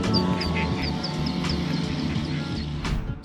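A mother duck quacks in a repeated, fairly loud series of calls near a manhole where her ducklings are trapped, heard over steady background noise and traffic rumble.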